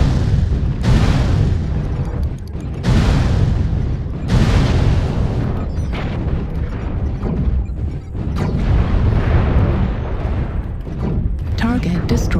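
Explosions of destroyed mechs in MechWarrior Online on a frozen city map at night, several loud booming bursts spaced a couple of seconds apart, each decaying into rumble, with an intermittent voice over the gameplay.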